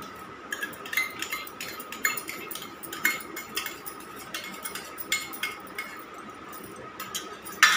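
Yogurt being stirred into chicken for a biryani marinade, with a spoon clinking and scraping against a metal bowl in a steady run of light, close taps and rubs.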